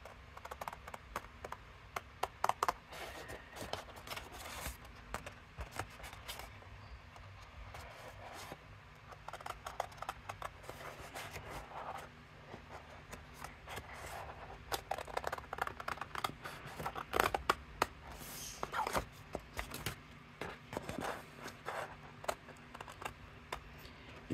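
Paper card stock being cut into the shape of a takeout-style box, with a steady run of small crisp ticks and scraping snips, close and fairly quiet, with no talking.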